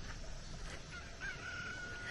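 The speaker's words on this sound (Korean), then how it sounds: "지금 오후 1시 넘었는데 닭이 울어." A rooster crows somewhere in the distance in the early afternoon, thin and drawn out, over steady outdoor background noise at a valley campsite.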